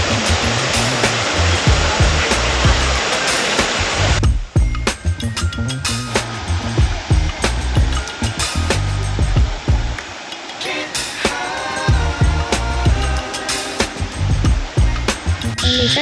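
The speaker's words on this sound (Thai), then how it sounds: "ด้านนี้ก็จะมีน้ำตกเล็กๆให้แบบเล่นๆ" Small waterfall spilling over rocks at a Thai stream, a loud broadband rush in the first few seconds that then breaks into choppier splashing and gurgling flow, close by and with no voices.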